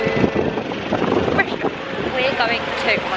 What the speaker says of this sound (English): we've arrived in London, and it's so windy